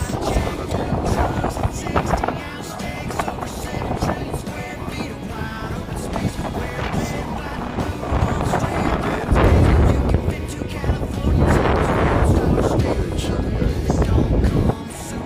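Strong wind buffets the microphone at a beach near a lighthouse in Canada, a steady roaring rush that swells louder in gusts toward the end, with no talk.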